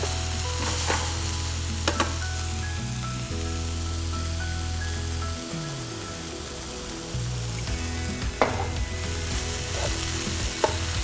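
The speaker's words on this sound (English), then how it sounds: "So let's put in the broccoli. You need to add more oil, go ahead." Broccoli stir-fries in hot oil in a pan for beef with broccoli, giving a loud, continuous sizzle with occasional stirring scrapes and clatter. A steady low hum sits underneath and no one speaks.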